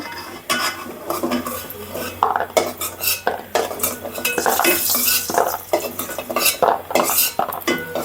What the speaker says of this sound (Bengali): ভাজা হয়ে গেছে এখন উঠাই নেব